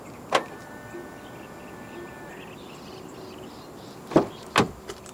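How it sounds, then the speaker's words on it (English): On a 2025 Chery Tiggo Cross 1.5 Turbo, tapping the driver's door handle sets off short mechanical clicks and a faint motor whir, then two sharp, distinct lock clunks near the end, all close by against a quiet outdoor background. "To lock the car, press the indented area on the driver's side door handle."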